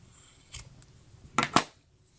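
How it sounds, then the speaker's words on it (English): Scissors snip through a bundle of yarn loops to form a tassel, three quick close crisp cuts, the last two in rapid succession, fairly faint against a quiet room. "Then we're going to cut through all of our loops."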